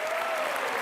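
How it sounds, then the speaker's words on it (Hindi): Loud, dense applause from a studio audience at a comedy talk show fills the whole moment, a steady wash of clapping with a faint tonal whistle running underneath. "जोरदार तालियां"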